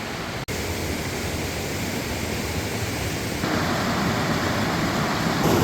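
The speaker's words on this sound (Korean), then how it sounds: "계곡물이 시원하게 잘 내리네" Mountain valley stream water at Namsan valley in Cheongdo rushing steadily near a waterfall, a broad continuous hiss and roar that swells slightly louder partway through, with a brief dropout near the start.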